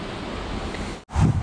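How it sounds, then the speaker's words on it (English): A garden hose sprays water outdoors while everything is hosed down one last time before winter. The steady broadband hiss runs on, breaks off for an instant near the end, then resumes louder and closer. "outside here hosing everything down one final time"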